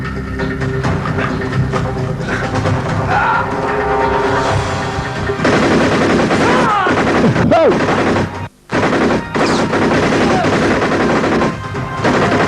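Gunfire in an action film: bursts of shots and automatic fire mixed with crashes and a loud soundtrack, with a brief dropout, under a narrator's voice.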